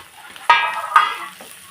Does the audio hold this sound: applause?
no